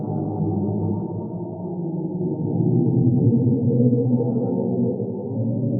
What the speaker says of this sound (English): That is the sound of a black hole.